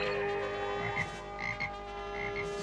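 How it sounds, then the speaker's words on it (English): Cartoon frog croaking in a He-Man animated episode, several short raspy croaks over a sustained musical background, close and moderately loud. "Surrender, He-Man, or Teela will remain a little frog forever!"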